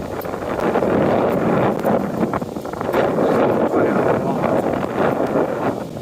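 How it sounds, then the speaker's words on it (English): Heavy wind buffets the microphone in loud, rumbling gusts, with a voice partly buried beneath the noise. "I don't know if you can hear anything I'm saying because it's so damn windy."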